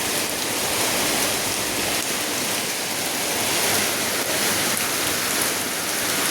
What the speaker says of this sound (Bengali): আর দেখো ভারী বৃষ্টি হচ্ছে